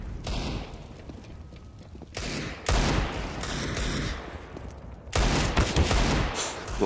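Gunfire bursts during a professional CS:GO match on the Train map, loud repeated shots in several clusters with a heavy burst near the end, no voices over them.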